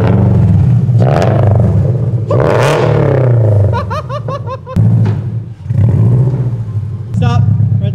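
Subaru BRZ engine with an aftermarket exhaust, loud close idle rumble rising into a couple of throaty revs that fall back, with people laughing and chatting over it.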